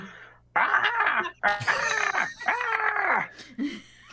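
A person's voice mimics an indignant jungle bird, letting out several loud, harsh squawks and cackles in quick succession, close and animated.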